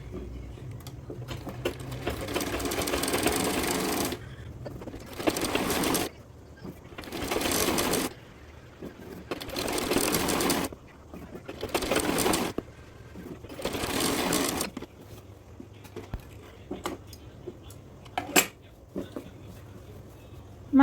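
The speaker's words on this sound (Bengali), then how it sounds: "রাবারের ঘরটাকে সুন্দরভাবে এরকম চিকন করে সেলাই দিয়ে নিলাম" A sewing machine stitches a narrow casing for the elastic in a salwar waistband, running in repeated bursts of a few seconds each separated by short pauses, close and steady with no one talking.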